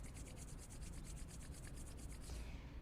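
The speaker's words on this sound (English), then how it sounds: "Rub your hands together, get them nice and warm." Two hands rubbing briskly together to warm up, a soft, continuous close swishing friction with a quick regular back-and-forth pulse, faint and steady before easing off at the end.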